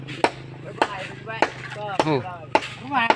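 Sharp, heavy wooden thwacks strike about every half second in a steady rhythm as a wooden house post is driven, with a voice talking and grunting between the blows.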